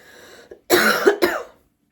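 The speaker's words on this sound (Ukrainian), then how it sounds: "з'явився кашель" Two or three harsh, close coughs in quick succession, loud and raspy, then silence.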